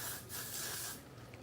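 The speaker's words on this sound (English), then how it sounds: "what we're going to do is spray her ponytail" Hairspray hisses onto a client's ponytail in a salon setting, a soft, faint aerosol spray heard in a short burst and a quieter follow-up.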